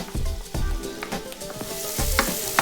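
Real bacon pizza topping sizzling and frying in a pan while being stirred, steady crackle with repeated scraping stirs, close and loud.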